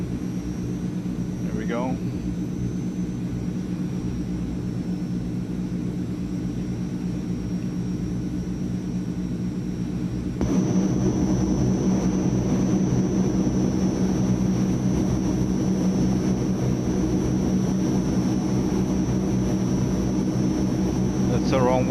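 A Transall C160 transport aircraft in Microsoft Flight Simulator climbs with a steady, droning engine roar. The roar gets louder about halfway through as the throttle comes up, and a voice speaks briefly over it.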